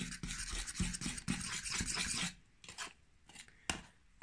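Flour made from whole-grain meal is stirred with water into a natural glue, giving a soft scraping, rubbing sound for a couple of seconds, then a few faint, sporadic scrapes.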